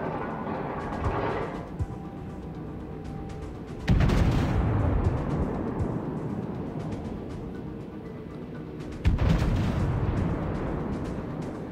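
Heavy naval gunfire from the battleship South Carolina in World of Warships, two loud booming salvos that each burst out sharply and then roll away into a long rumbling tail over a steady engine and sea drone.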